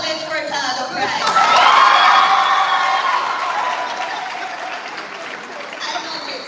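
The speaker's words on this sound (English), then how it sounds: "I want to experience the clap." An audience at a school prize giving ceremony breaks into warm applause, clapping swelling quickly to a loud peak and then tapering off over several seconds, with light cheering mixed in.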